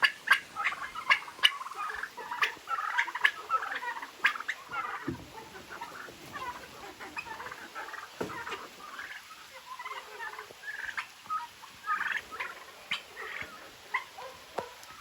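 Turkeys kept at a home poultry yard gobble and chatter continuously in a dense, overlapping flock chorus, close and fairly loud, with rain starting outdoors.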